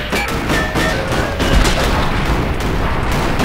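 Gunfire in the side-view action game Cortex Command, rapid sustained shots crackling continuously at close range, loud and dense with no pauses.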